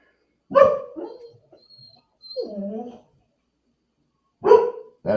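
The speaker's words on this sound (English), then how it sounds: "That's my dog, Melissa." A pet dog barks indoors in a few sharp, loud bursts separated by pauses, with a person talking between and over the barks.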